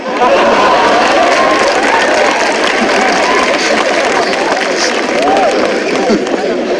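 Loud, steady applause from an audience at a Hindi kavi sammelan poetry gathering, a dense wash of clapping with crowd noise that carries on without a break.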